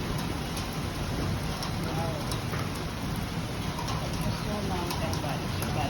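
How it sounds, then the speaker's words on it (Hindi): Dense, roaring downpour with constant broadband hiss, loud and unbroken, like heavy rain close by. "इतनी ज़्यादा बारिश हो रही है।"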